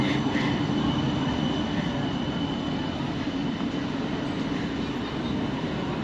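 Tram rolling past the old city gate in Freiburg, Germany, a steady low rumble of wheels on rails with faint metallic hiss, moderately distant and continuous throughout.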